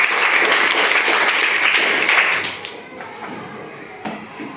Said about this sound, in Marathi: अर्थमेश साठी परत एकदा टाळ्या वाजवायचा आहे